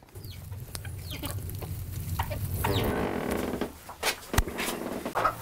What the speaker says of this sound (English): This chicken coop, it's got a living roof.